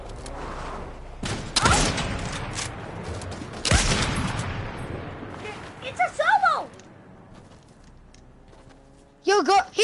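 Bursts of gunfire in a PS4 shooter game, with a couple of loud volleys early and sharper shots later, heard under players talking over voice chat.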